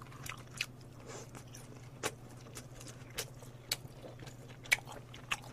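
Crisp crunchy bites and chewing of black sesame fried chicken repeat at an irregular pace, close and fairly quiet, over a low steady hum.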